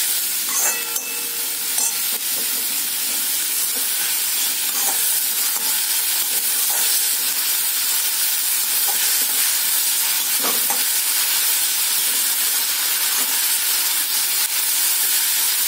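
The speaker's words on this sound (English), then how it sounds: "Now we'll add the banana stem in it." Finely chopped banana stem with a little salt sizzles loudly and steadily in a pan while being stirred, with soft scraping and clinking strokes over the continuous frying hiss.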